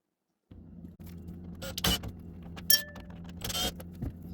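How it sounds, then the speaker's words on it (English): A screwdriver fitted with a T15 star bit backs large screws out of a kitchen appliance. Short whirring bursts and metallic clicks come up close over a low steady hum. "We are going to take them off, and what it is a T15 star bit. That's what we're going to use to take them off."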